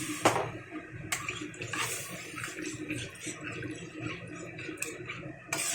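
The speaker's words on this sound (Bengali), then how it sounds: "এখন আমি এখানে পরিমাণ মতো জল দিয়ে দেবো।" Water poured into a vegetable sukto curry in a pan, a soft splashing and trickling with a few sharp clicks of utensils against the pot, fairly faint and close.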